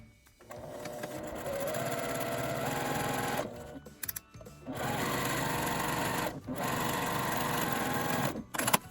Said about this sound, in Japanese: 底を1センチの縫い代で縫います。